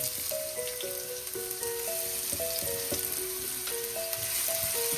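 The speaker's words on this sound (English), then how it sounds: "Get our onions in there. Let's fry it up." Chopped onions fry in a hot pan with a steady, close sizzle and crackle that runs the whole time, with faint tonal music underneath.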